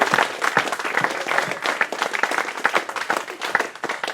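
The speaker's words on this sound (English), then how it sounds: "So massive round of applause, everybody!" Lively audience clapping at the Great British Hobbit League Final Awards 2014 for a prize winner, close and loud, with fast uneven hand claps throughout.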